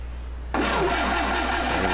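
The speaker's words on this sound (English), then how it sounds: "once the engine starts running and gets hot, that paint is going to smoke for a while" The rebuilt engine of a 1955 VW Beetle catches and starts after a low cranking hum, settling straight into a loud, even, close-up idle with a regular pulsing beat.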